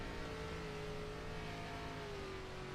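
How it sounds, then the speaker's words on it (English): An ARCA race car on a dirt clay track sounds out under steady throttle. The engine drones loud and sustained, with a tone that slowly falls and then rises, and no talking over it. "You hear how much he gets down on the throttle?"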